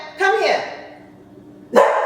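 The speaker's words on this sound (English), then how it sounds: "the dog starts barking" A dog barks loudly nearby in two bursts of sharp, harmonic barks separated by a short lull, heard indoors during a home recording.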